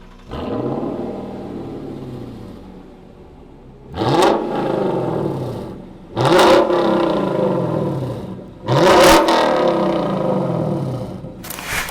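A Lexus LC500 coupe's engine heard from outside, loud and close, with four separate revs: one long opening rev, then three sharp blips that rise and fall, each separated by a lower idle.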